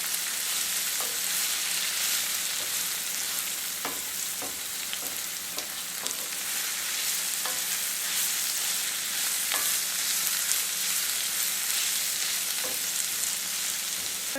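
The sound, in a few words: peppers and onions sauteing in a hot skillet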